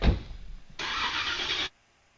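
A Dodge Hellcat engine swapped into a Nissan 350Z cranks briefly after a rustle of handling, then catches into a loud, close burst of engine noise for about a second before cutting off into silence.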